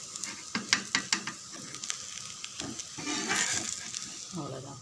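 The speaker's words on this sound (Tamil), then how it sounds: "தோசை அப்படியே மெதுவாக திருப்பிடுங்க" A rava and wheat flour dosa sizzles on a hot pan as it is flipped, with a cluster of sharp scraping clicks from the spatula early on, then a steady, moderately loud frying hiss.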